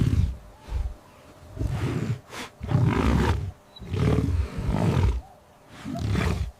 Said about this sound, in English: a deep, earth-shaking roar echoes across the plains